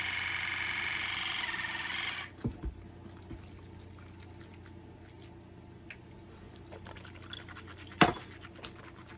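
A water flosser hisses loudly for about two seconds as a pressurized jet sprays into a mouth around a fixed dental bridge, then cuts off, leaving quiet drips, a few wet clicks and a sharp splash.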